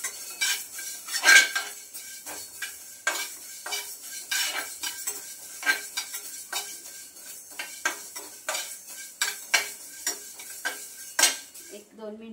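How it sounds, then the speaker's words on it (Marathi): Fenugreek seeds roast dry in a hot kadhai while a metal spoon scrapes and taps the pan in irregular clinks, over a faint crackling sizzle, close and alone. "एक 2 मिनिटासाठी मेथी सुद्धा आपण छान भाजून घेतली गरम कढईमध्ये"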